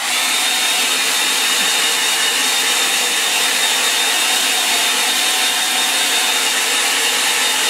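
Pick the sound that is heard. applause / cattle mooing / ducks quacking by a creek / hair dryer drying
hair dryer drying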